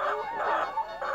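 Laying hens clucking on a farm in rural Isan, Thailand: loud, close, continuous throaty clucks and drawn-out calls from several birds overlapping, with no talk.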